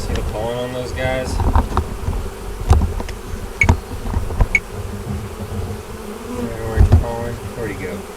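Honey bees buzz loudly and close around new Ozarks nucs, a continuous drone with individual bees whining past the microphone, while people talk quietly over it and wind brushes the mic.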